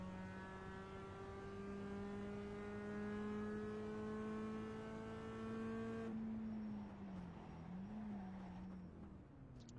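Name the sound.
Mazda Cup car engine revving on downshift, iRacing video game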